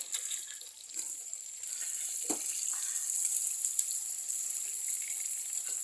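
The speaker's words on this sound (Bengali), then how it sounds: "গ্যাসের মধ্যে রান্না করছি" Fried rice cooks on a gas stove, a soft, steady sizzle and hiss with a few faint clicks and stirring sounds, heard quietly and without talk.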